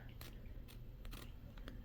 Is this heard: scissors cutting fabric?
yes